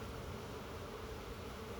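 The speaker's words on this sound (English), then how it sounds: "there are all kinds of bees in the air" Many bees flying in the air around an opened beehive during a hive inspection, a steady dense buzzing hum that fills the whole clip, close and even, with no talking.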